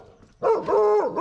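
A dog gives a short, loud, drawn-out bark that rises into a whining yip, close by, after a brief quiet moment.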